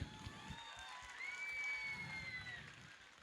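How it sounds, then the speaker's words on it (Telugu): A crowd at a film trailer launch event claps and cheers for an actress, producing a dense wash of applause with whoops and a sustained high shout rising in the middle before easing off. "అందరూ క్లాప్స్ కొట్టాలి అమ్మాయికి."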